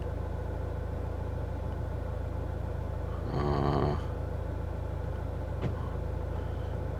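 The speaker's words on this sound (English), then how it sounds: "You can hear it. The window went down." A car's driver-side power window motor lowering the glass, heard as a brief whirring hum of about half a second over a steady idling engine, followed by a faint click.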